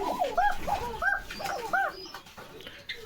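Fancy pigeons at a pigeon loft in Bogura give several soft, throaty rolling coos in quick succession, close by against a quiet background.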